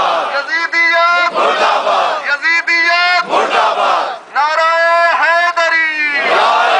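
A large crowd at an Edinburgh Muharram procession chants slogans in loud, rhythmic call-and-response bursts, many voices together in close, sustained shouts with short gaps between phrases.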